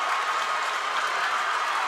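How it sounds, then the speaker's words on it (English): A basketball crowd at a high school boys' game, Hermon at Ellsworth, erupts after a foul late in a tied game: a loud, steady roar of cheering and clapping that fills the whole clip without letup. "And the crowd is wild."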